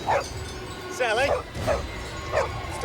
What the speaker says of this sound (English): stop your barking, damn dog.